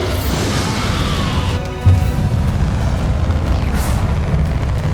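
Explosive spell blasts from Hogwarts Legacy, the Bombarda and Confringo curses, as a loud dense rumbling burst with a sharp impact near two seconds, under constant crackling game noise and no speech.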